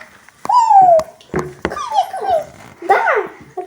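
A dog whimpers and whines indoors in several rising and falling cries, close and fairly loud, broken by short clicks and knocks.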